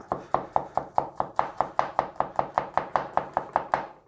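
A knife rapidly chops garlic on a board for a stir fry, about twenty crisp, evenly spaced taps in a steady rhythm, close and alone.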